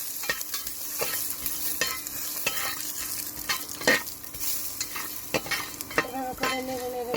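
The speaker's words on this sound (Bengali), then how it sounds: "এভাবে করে নেড়ে নেড়ে ভেজে নিতে হবে" Pumpkin seeds with turmeric stirred and fried in a pan: steady close sizzling under a series of sharp scraping stirs and clacks, with no talking.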